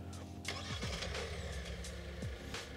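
A Hyundai Santa Fe engine started by remote alarm fob turns over and catches, the motor rising then settling into a low, steady idle with a couple of brief pitch sweeps, close and fairly quiet.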